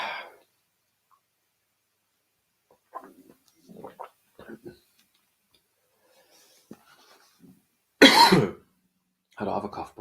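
A person coughs into a live-stream microphone, with sparse quiet sounds between and a sharp, loud cough burst near the end followed by another shorter one.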